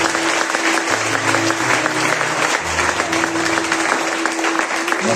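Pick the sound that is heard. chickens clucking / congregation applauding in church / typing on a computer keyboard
congregation applauding in church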